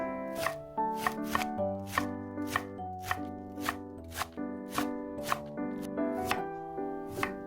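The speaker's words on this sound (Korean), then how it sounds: "잘게 채 썰어 주세요." Knife finely shredding napa cabbage into thin strips on a cutting board, a steady run of about a dozen crisp, evenly spaced chops, close and clear over quiet background music.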